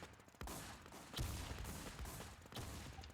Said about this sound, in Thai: ใครยิงกูวะ